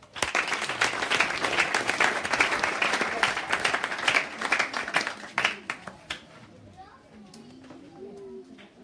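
Applause from a church congregation for Sister Pélagie's testimony, dense clapping for several seconds before thinning into scattered claps and quieter room noise with a few voices.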